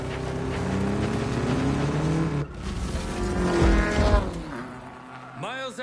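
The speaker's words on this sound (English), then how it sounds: "I'm going to go ahead and pull out the Subaru Impreza for this next off-road race here" Subaru Impreza racing off-road in Need for Speed Payback, engine droning and revving with tire noise, broken by a brief cut midway, then rising again before fading into squeaky sounds at the end.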